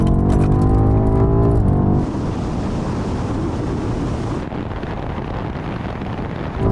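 A BMW M8, M5 CS and M5 Competition accelerate in a rolling race from 50 mph, a strong engine note climbing at first, then giving way to loud, steady wind and road rush at speed.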